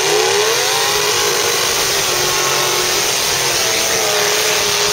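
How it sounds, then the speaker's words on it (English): A brand new, first-run motor roars continuously at high revs, loud and close, with a dense broadband engine noise and slowly rising whine throughout. "Brand new, first time motor."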